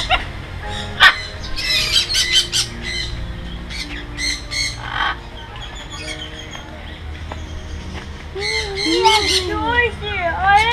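Parrots at a mini zoo on Samui squawk and chirp loudly in repeated harsh bursts and rising calls, close by, while people talk in the background.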